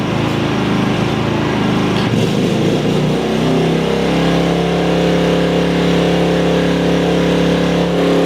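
Maxpeedingrods MRX3500 portable generator rises from a rough idle to a steady, higher-pitched hum as it picks up a kettle's load, the engine tone settling into a constant drone midway through.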